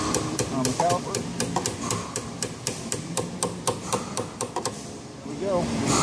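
A punch is struck repeatedly to tap a brake pad pin into the caliper of a C7 Corvette Stingray, a rapid, even series of sharp metallic taps up close, with someone speaking over the start and end.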